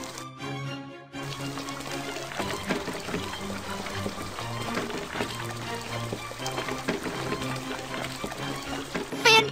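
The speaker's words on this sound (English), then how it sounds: "Drag the hose to fill the pool with water." In a Baby Panda cartoon game, water gushes from a hose into a pool, a soft continuous splashing pour under bright background music.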